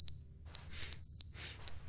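Smoke alarm in The Stanley Parable video game, giving sharp high electronic chirps, about five short beeps spaced irregularly over a couple of seconds, fairly faint, mixed with bursts of hissy noise.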